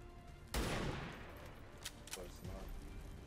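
A single sharp gunshot in XCOM 2 cracks loudly and fades into a lingering echo, followed by a couple of fainter impacts and muffled game sounds.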